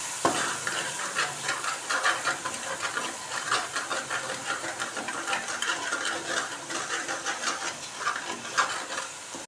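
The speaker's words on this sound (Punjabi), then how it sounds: "ਮਸਾਲਾ ਪੂਰੀ ਤਰ੍ਹਾਂ ਨਾਲ ਭੁੱਜ ਚੁੱਕਾ ਹੈ" Masala for a potato pakora curry sizzles in a hot pan while it is stirred, giving a continuous close hiss and crackle broken by repeated scraping strokes. No one speaks.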